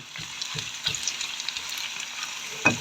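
Garlic paste fries in hot oil until lightly browned, a continuous soft sizzle with a few faint stirring clicks, close and unbroken by speech.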